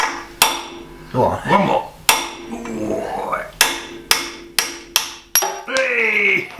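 Hammer blows ring out on a Ferguson tractor axle during a rebuild, about eight sharp metallic strikes spaced irregularly, with people talking and calling out between them.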